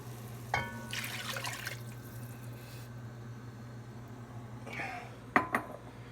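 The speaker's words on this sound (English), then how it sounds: "So we're going to add the stock," Vegetable stock pours into a pot of vegetarian chili with soft liquid splashing and trickling, followed by brief metallic clinks of a can or utensil against the pot, all close over a low kitchen hum.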